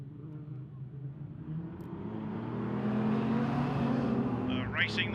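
Six-cylinder sprint cars roar off together at Ellesmere Speedway, a swelling engine drone that builds louder over a few seconds as the pack accelerates into the turn, with a brief higher whine near the end.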